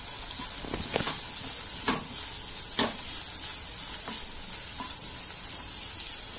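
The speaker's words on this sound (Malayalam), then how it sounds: "എന്നിട്ട് അത് നന്നായിട്ടൊന്ന് മിക്സ് ചെയ്തെടുക്കുക" Okra curry frying in a pan as chili powder is stirred in, with a continuous soft sizzle and a few scattered scrapes of the spoon, fairly quiet and without talk.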